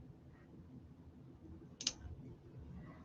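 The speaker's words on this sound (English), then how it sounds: "let me cut this with my handy dandy, very professional scissors" A single crisp snip of scissors cutting through a craft strap, one brief quiet click in an otherwise hushed room with no talking.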